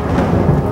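Thunder rumbling in a cartoon storm scene, a low, steady, loud roll that fills the whole brief moment with no voices over it.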